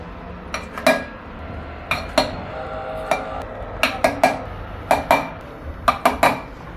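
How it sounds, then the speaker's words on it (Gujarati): Repeated clinks and taps of a spoon against a mixer jar, coming in quick clusters as cream is scooped in; no talking. "હવે આપણે આને મિક્સર જારમાં નાખવાનું છે"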